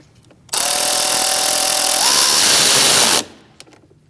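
A power tool runs for about three seconds while tightening the battery terminal nut on a 2000-2006 Mini Cooper, a loud, steady whirring burst with a slight pitch rise near the end and quiet handling before and after.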